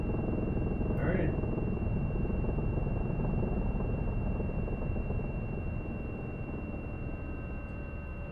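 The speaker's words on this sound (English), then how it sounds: "Rotor RPM coming down, so I'm just gonna use this right here, just a flare" A helicopter rotor in a flight simulator game, a dense, steady low rumble and whine that fades slightly toward the end, with a brief voice exclamation early on.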